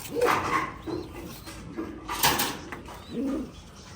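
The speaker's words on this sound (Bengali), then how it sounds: "এটা হচ্ছে আমার গ্রিজেল কবুতর" Grizzle pigeons coo close by in soft, low, throaty bursts, a few calls spaced across a quiet moment.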